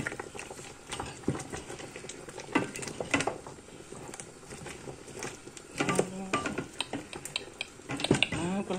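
A spoon scrapes and clatters through thick Nigerian ogbono soup in a pot, giving a steady run of wet stirring and knocks that grows busier toward the end.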